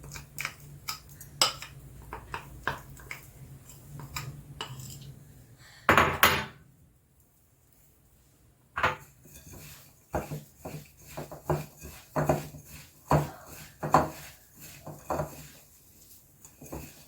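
A spoon scoops a thick hazelnut chocolate mixture for homemade Ferrero Rocher-style sweets. Quiet clicks, taps and scrapes against the bowl come in an irregular run, with one louder clatter partway through and a short silent pause after it.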